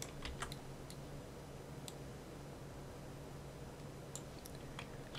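Keyboard shortcut keys pressed while modeling in 3ds Max: a handful of sharp, quick key clicks scattered over a steady low hum, grouped in short bursts near the start and toward the end.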